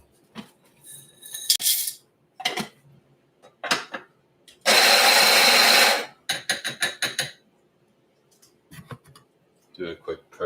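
Electric coffee grinder grinding Colombian beans for a pour-over brew, one loud steady whir of about a second amid clinks, taps and handling noises of coffee gear.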